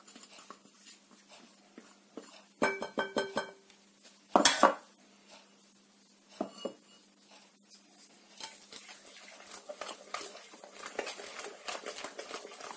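Almonds, fried in oil and finely ground without skins, tumble into a mixing bowl for a raisin and almond cake, producing a few close clinks and rattles against the bowl in short bursts, followed by soft stirring scrapes.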